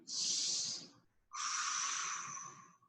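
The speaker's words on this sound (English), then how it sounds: "Deep breaths. Maybe you can even hear your breathing." Two slow, deep breaths close to the ear during early-morning yoga, an airy hissing inhale followed by a longer exhale, with quiet between them.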